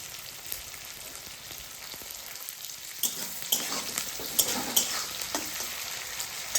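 Garlic fries in hot oil with a little salt for a fish chilli dish, a steady soft sizzle that turns livelier halfway through as sharp stirring scrapes and pops cut in.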